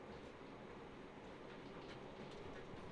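A Southern passenger train runs between Dorking and West Croydon, heard from inside the carriage as a low continuous rumble with rhythmic wheel clatter on the rails, fairly quiet and steady throughout.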